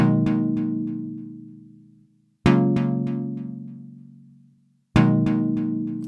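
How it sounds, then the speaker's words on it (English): Arturia's DX7 synthesizer emulation on a fifths patch plays three sustained notes, each struck cleanly, decaying slowly and then cut off, spaced evenly and heard alone at moderate level. "Arturia version of the DX7, and this is a fifth, some sort of fifth setting"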